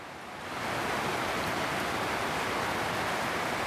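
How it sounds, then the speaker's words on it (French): Steady rain falls outdoors as a dense, even hiss that swells in within half a second and then holds constant, fairly soft, with no talk. "Après, il a plu plus doucement, mais il a continué à pleuvoir. Et là, du coup, c'est reparti."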